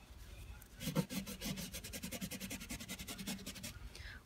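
A disinfectant cloth rubs excess chalk paste off a stencilled surface in quick, even back-and-forth strokes, close and steady, about twenty scrubbing passes with no voices.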